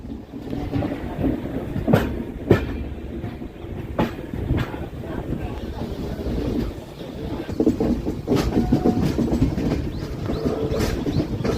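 A Humsafar Express train rolls into the outer approach of Renigunta Junction, a steady loud rumble of wheels and carriages with rhythmic clacks and occasional sharp rattles, running continuously throughout.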